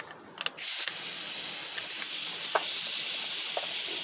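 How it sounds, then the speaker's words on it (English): After a brief click, a spray gun releases a steady, loud hiss of base coat paint spraying onto a 2007 Ford Edge, continuing without a break. "So I got ahead and got my spray gun set up here."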